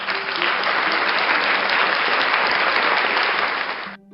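A crowd applauding, a dense, steady roar of clapping that holds for about four seconds and then cuts off suddenly.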